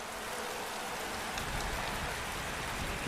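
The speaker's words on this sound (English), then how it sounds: "despite the rain you can see coming down" Steady rain falls at a MotoGP 19 racetrack, a dense continuous hiss of drops with no pauses and no voices over it.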